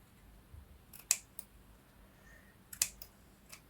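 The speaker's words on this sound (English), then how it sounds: "go around some of this lace here and just snip some of it off" Scissors snipping rough cuts into lace trim on a junk journal page, with a few short, crisp clicks in two clusters, close and quiet, alone without talk.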